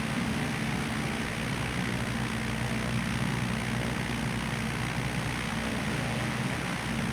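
A steady, loud drone of a propeller airplane engine in Microsoft Flight Simulator, building for takeoff at dawn, holding an even roar the whole time with no talking.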